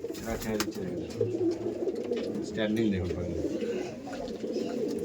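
Madrasi pigeons coo in a steady low murmur at close range at a pigeon sale, under continuous conversation.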